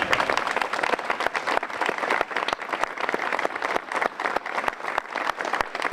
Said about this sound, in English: If they could stand up and give them a great round of applause for being here with us today.